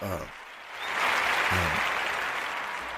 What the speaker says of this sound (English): we want to give G a birthday round of applause